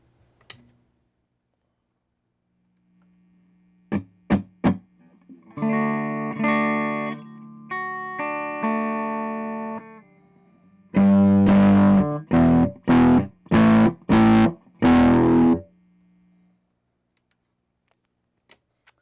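A faulty Fender Blues Deluxe guitar amp on its clean channel breaks up as notes are played through it. Scattered clicks give way to sustained distorted chords, then a run of loud, choppy bursts, with quiet gaps between.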